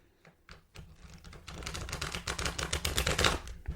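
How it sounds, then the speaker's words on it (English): A Rider-Waite tarot deck riffle shuffled on a tabletop: a quick flurry of crisp card clicks that builds into a dense, loud rattling cascade lasting a few seconds, close by and alone. "Pretty good riffle shuffle"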